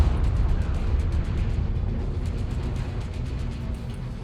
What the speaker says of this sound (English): Reactor explosion.